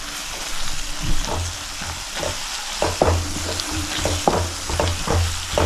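Two green chillies drop into a hot pan and fry with a continuous crackling sizzle, punctuated by sharp spits and scraping stirs of a utensil, close and fairly loud with no voices.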